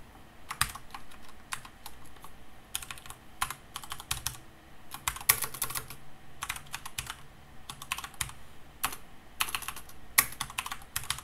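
Steady typing on a computer keyboard while writing code, close and clear, with irregular bursts of keystrokes broken by short pauses and no talking.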